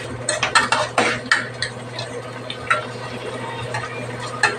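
A spoon or spatula scraping and clinking in a pan while a shrimp and paprika mixture is stirred, giving irregular metallic taps and scrapes close by over a steady low hum.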